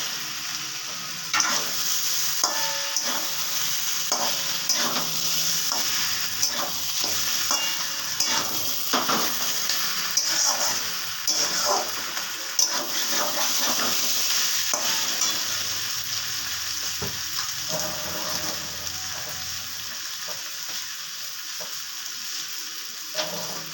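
Fish heads are stirred into spiced rice frying in a pan for murighonto, a steady sizzle broken by repeated scraping and clattering of a spatula against the pan, close and moderately quiet, with no speech.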